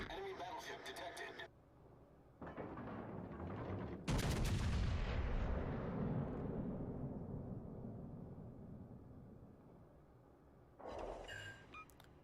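Naval gunfire from the heavy cruiser Edinburgh in World of Warships Legends, a massive salvo boom followed by a long rumbling decay over several seconds, with game voice chatter and radio-like callouts before and after.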